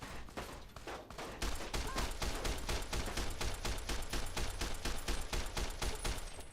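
Rapid rifle gunfire from Fallout New Vegas, a dense, steady burst of repeated shots that carries on for several seconds at a loud, even level with no voices.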